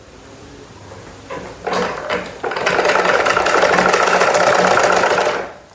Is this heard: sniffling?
no